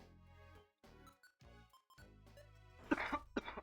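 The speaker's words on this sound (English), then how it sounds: "I am a coughing fit right now." A person has a coughing fit: several sharp coughs and throat clearings come in quick bursts, close and fairly loud, over quiet game music.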